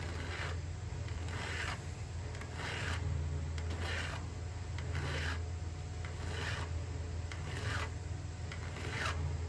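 A square hand file rasps across chainsaw chain teeth in steady, evenly spaced strokes, each a short gritty swipe repeating about once a second, close and continuous with no voices.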